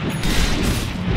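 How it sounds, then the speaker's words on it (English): A tower collapsing in the Dota video game, heard as a dense, continuous rumble of booming and crackling explosions that stays loud and steady for about a second. "Dire's bottom tower just got destroyed!"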